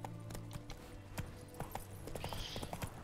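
Roach the horse trots along in The Witcher 3, quiet hoofbeats tapping out an uneven clip-clop over soft background music.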